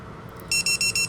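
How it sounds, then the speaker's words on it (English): An Armattan Hellgate FPV buzzer gives four short, loud, high-pitched beeps in an even rhythm, starting after a brief stretch of low background hum. "So I'm going to sit here and wait for it to start beeping"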